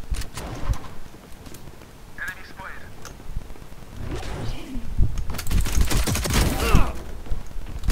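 Gunfire in a Valorant Spike Rush match, with bursts of shots and sharp clatter building toward the end, mixed with game effects and players talking over it.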